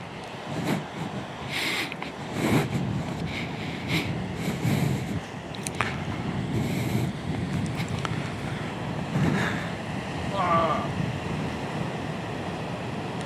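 Large ocean waves breaking on an open sea shore with surfers out, a continuous rumbling wash of surf mixed with wind buffeting the microphone, steady and fairly loud throughout.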